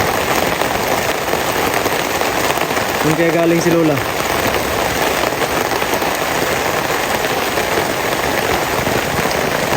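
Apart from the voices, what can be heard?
rain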